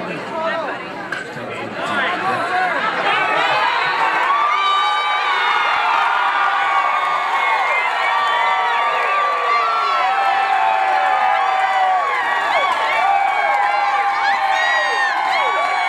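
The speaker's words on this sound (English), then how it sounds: "we're at Suds, one of many locations where our local fans are cheering on the hometown team" A crowd of local fans at Suds bar in Huntington Beach cheers and shouts loudly while watching a Little League game, excited voices, whoops and chatter swelling and overlapping continuously, including children shouting.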